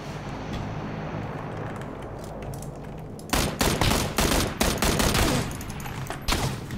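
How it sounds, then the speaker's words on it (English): Gunfire in PUBG: Battlegrounds, rapid bursts of automatic shots that break in partway through over a low background rumble, loud and close, with no talk. "How many times do I gotta shoot this guy?"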